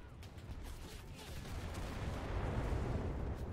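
Rapid, distant gunfire and artillery rumble from a World War II battlefield in the shooter game Enlisted, a dense continuous barrage that swells slightly louder toward the end, with no voices over it.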